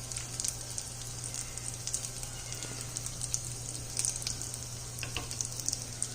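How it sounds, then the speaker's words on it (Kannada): Tempering spices crackling in hot oil for a tomato rasam, with a steady, close sizzle dotted with sharp pops and spits throughout, over a low hum. "ಇವಾಗ ಒಗ್ಗರಣೆ ರೆಡಿಯಾಗಿದೆ"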